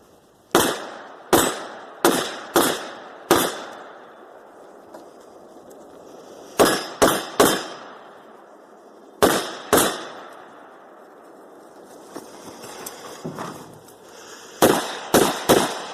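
Gunshots ring out during an urban shooting drill run, crisp reports in uneven groups: five shots, a pause, then clusters of three, two and three, with quiet gaps between.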